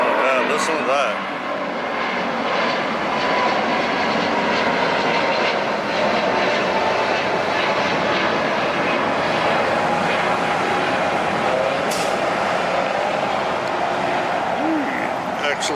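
Boeing 747 cargo freighter jet engines roaring at LAX, a loud sustained broadband roar with a rising whine, heard close and continuous throughout.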